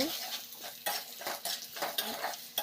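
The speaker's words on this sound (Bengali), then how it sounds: "এবার ভালো করে মিশিয়ে নেব" Jowar rice is stirred with spices in a pan with a spoon, a steady run of close scraping and clinking strokes over a faint sizzle, with no talk.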